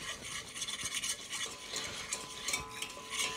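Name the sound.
whisking cold milk into a roux for béchamel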